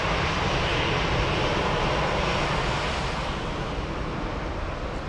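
A Discover Airlines airplane at Frankfurt airport gives a loud, steady, broadband engine roar that holds throughout without a break, with no voices.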